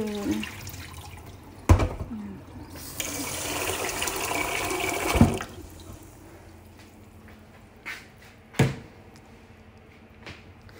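Rice being rinsed under a running kitchen tap during a part-time job in Japan: a steady wash of flowing water with a few sharp knocks and clatters of the pot and rice, fairly close, no talk.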